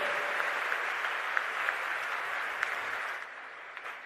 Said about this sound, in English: I request all of you to give a loud round of applause for the enigmatic force of intellect, Dr. Shashi Tharoor MP.